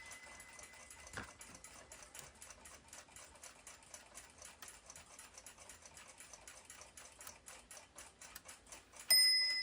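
An antique 1891 Waterbury repeater alarm clock ticks steadily and quietly, and a single bell strike rings out early on; the ticking carries on throughout.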